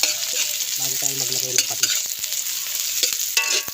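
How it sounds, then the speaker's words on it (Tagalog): Onion, ginger and garlic sauté in a pan outdoors with a lively sizzle, punctuated by sharp clinks and scrapes of a utensil stirring. A voice speaks briefly over the cooking. "Ilagay na natin yung ating sibuyas. Palabasin natin yung aroma ng sibuyas"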